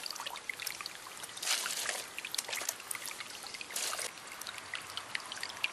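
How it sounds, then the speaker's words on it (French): Water trickling slowly through a charcoal and cloth filter in a homemade filtering straw, a steady close wet dribble with two brief louder surges of pouring, no talk. "Donc l'eau s'écoule petit à petit"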